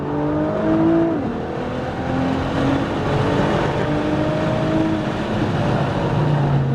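A Nissan GT-R R35 accelerates on a track, its engine droning and rising in pitch with a couple of gear changes, loud and close from inside the car.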